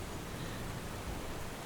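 Soft rain falls in a steady, even hiss, a gentle wash of drops with no talk or other sounds.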